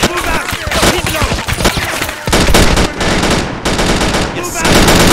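Sustained machine gun and rifle fire from the Men of War war game, dense rapid bursts that run nearly continuously, loud and close, with brief pauses and shouted voice lines mixed in.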